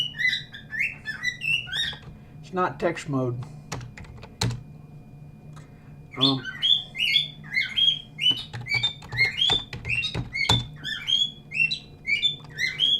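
A pet bird chirps and tweets in repeated bright bursts close by, mixed with rapid computer keyboard typing and clicks. Someone speaks briefly.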